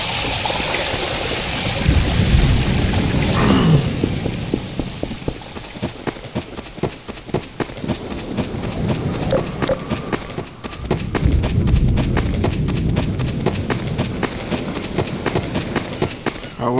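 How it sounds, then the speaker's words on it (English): A horse gallops across desert terrain in the Garry's Mod video game, a running rhythm of hoofbeats that comes and goes amid mid-level ambient noise. "I went through the desert with a horse"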